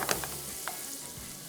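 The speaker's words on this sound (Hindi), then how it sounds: "और इसको हम हल्का सा फ्राई करेंगे for just about a few seconds." Chopped garlic frying briefly in butter, a soft steady sizzle close by with a couple of quick stirring scrapes at the start.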